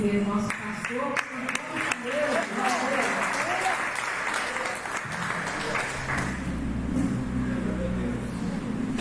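A church congregation at a Methodist service claps to welcome the pastor, dense applause with voices mixed in that fades after several seconds into a low rumbling, engine-like noise.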